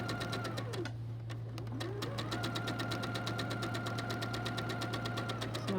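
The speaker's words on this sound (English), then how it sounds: "you want to sew straight, you want to sew right on the line" A sewing machine stitches a quilt block along a drawn line, its rapid even mechanical chatter running steadily and close throughout with a constant motor hum beneath.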